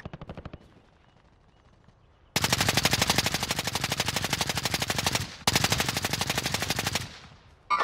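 Video game gunfire: a few rapid shots, then two long sustained bursts of automatic machine-gun fire with a brief gap between them, loud and close, no talk over it.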